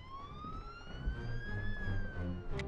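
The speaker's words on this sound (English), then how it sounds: "those are sirens that are getting closer" A police siren wails with a rising tone, faint and somewhat distant, over low background rumble and a little indistinct voice.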